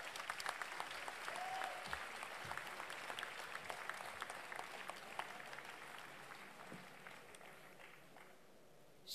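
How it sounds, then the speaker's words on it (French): Crowd applause at a political rally in Rennes, steady dense clapping from a large audience that slowly thins and fades toward the end, heard at moderate distance. "rien que pour ça on peut l'applaudir"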